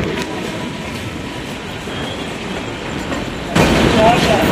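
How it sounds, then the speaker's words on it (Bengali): The Brahmaputra Mail express rumbles along as it enters Bhagalpur Junction, heard from inside the coach as a steady low rolling noise with rattles, swelling louder near the end. "আমাদের ট্রেন ভাগলপুর জংশনে প্রবেশ করছে।"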